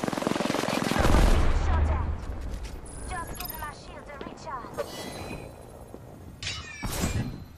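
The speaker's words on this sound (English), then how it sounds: "They're shooting at me." Enemy gunfire in Apex Legends, a loud burst of rapid shots at the start followed by scattered weapon sounds and game effects, with a voice talking over parts of it.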